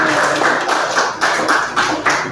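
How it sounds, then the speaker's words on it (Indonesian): A classroom of students clapping hands in several rhythmic bursts, close and fairly loud, with some muffled voices underneath. "Ya, kasih tepuk tangan."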